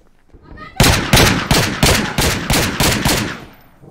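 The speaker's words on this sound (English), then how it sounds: "I'm being shot at." Gunfire in the video game Garry's Mod, a loud close burst of about eight evenly spaced shots that echo and fade out.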